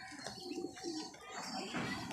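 Pigeon cooing, a soft low repeated call, carries steadily through a continuous bed of background noise, with no clear talk in the foreground.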